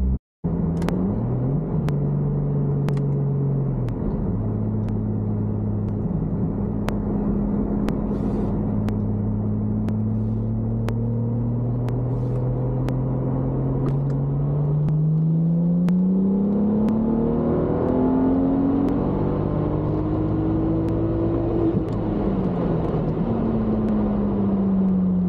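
A car with a BMW N55 engine pulls away and accelerates through the gears, its engine note rising, dropping at each shift, then climbing in a long smooth sweep, loud and close from inside the cabin.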